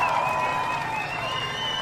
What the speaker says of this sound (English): we want to give a round of applause out to the Carter